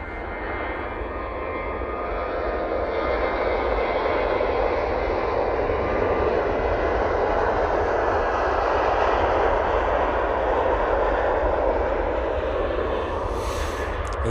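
A Ryanair airliner from Marseille at Manchester Airport gives a loud, sustained engine roar with deep rumble and broad whooshing that swells slightly and holds steady throughout, close by and with no speech.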